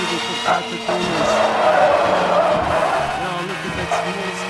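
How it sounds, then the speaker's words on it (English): A small car slides through a corner with its tires squealing and skidding over the engine's drone, while a commentator talks over it. "Now look at that small sliding car."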